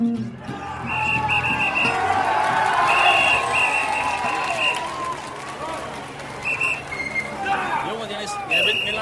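Loud crowd noise at the Tour de France stage finish in Saint-Étienne, heard from just past the finishing line as riders pass, with sustained cheering and whistles swelling around mid-clip and continuing throughout.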